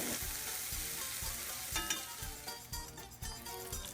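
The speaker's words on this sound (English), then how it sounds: "we've begun cooking the bacon" Bacon fries in a pan with a constant crackling sizzle, punctuated by regular soft scraping strokes roughly every half second, close and steady with no voices.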